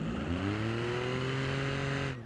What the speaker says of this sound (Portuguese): eu tô pisando tudo no acelerador, olha isso